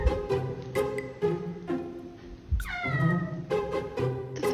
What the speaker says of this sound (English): The fucking door meows.